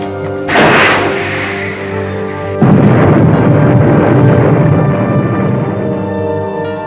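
A World War II submarine fires a torpedo from tube 2: a loud whooshing thump, then a heavier rumbling rush that swells and slowly fades over a steady low mechanical hum, with no voices.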